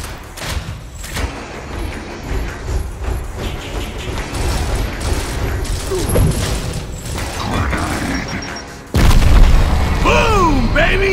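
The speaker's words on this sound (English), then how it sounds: "Throw a frag in there!" A frag grenade explosion in Gears of War lands as a sudden loud boom that cuts through ongoing combat clatter and mechanical noise, followed by a sustained rumbling tail.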